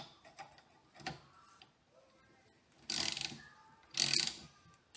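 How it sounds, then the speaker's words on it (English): A ratchet wrench clicks in short bursts while a Morris Minor dynamo is fitted on a workbench, with quiet pauses between two louder rapid runs of ratcheting close by. "Grab your ratchet."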